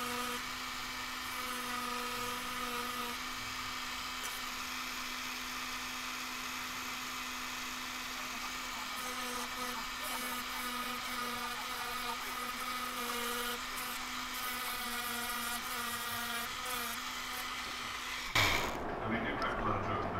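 A high-pitched rotary tool whines continuously as its sanding drum grinds against a carved wooden shad swimbait, then abruptly cuts off near the end with a brief clatter.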